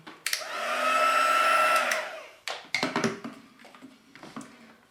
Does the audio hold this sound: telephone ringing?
no